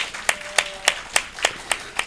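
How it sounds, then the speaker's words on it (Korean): Applause in a church sanctuary during a Sunday morning service, with the congregation honoring its small-group leaders. The clip is built from about seven distinct bright claps at a steady rhythm, each sharp and fairly close, with no talking. "우리 박수로 한번 축복하겠습니다"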